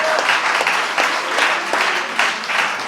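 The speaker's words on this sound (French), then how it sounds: "j'aimerais qu'on donne un bon applaudissement à Bran pour la semaine" A family camp audience applauds a speaker, a steady wash of many hands clapping at close range that keeps up for the whole stretch, with a faint voice now and then underneath.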